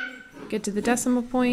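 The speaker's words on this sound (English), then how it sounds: "you can hear my dogs in the background." A dog yips and whimpers in short high bursts while a person talks over it nearby.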